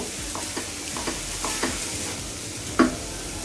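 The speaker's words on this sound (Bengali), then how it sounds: "এখন আমি চাল ডাল ভালোভাবে এইভাবে ভেজে নিব" Rice and lentils toasting in a pan with crushed garlic make a steady sizzle, broken by rhythmic scraping stir strokes about every half second and one louder clack near the end.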